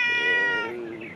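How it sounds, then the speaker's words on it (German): A cat gives one loud, close, drawn-out meow that slides downward in pitch and tapers off at the end. "Ja, jetzt kommt die Katze."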